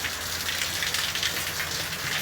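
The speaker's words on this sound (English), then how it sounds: "Yeah, I love the sound of the rain." Rain falling steadily outdoors, a dense, even hiss of drops on surfaces that stays close and constant throughout with no voices.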